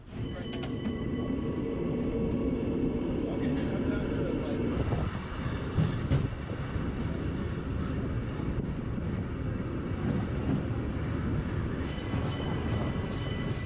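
A San Francisco cable car rides along its underground cable, a continuous rumbling clatter and rattle with brief squeals, heard from on board while someone talks over it.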